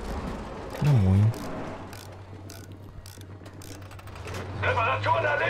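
Tank repair mechanism in the video game Battlefield V, heard as clicking, ratcheting mechanical clatter over a steady low hum, with a brief louder vocal burst early on.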